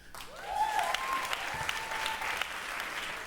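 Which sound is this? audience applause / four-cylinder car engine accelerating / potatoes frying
audience applause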